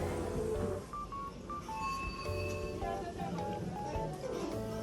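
A phone plays a run of electronic keypad dialing tones, short pitched beeps stepping through different notes over a steady background hum in a home kitchen.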